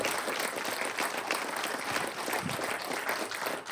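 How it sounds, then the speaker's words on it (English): Applause from an audience at a live climate change debate rings out continuously for the panel, dense and even throughout, fairly distant and moderate in level. "I'd just like you to please give our panel a round of applause,"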